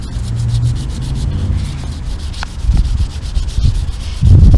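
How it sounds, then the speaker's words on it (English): Hand sanding with 400 grit sandpaper during paint prep, a close, loud run of steady rubbing strokes in a fast back-and-forth rhythm that builds slightly toward the end. "All I'm using for this prep is 400 grit sandpaper."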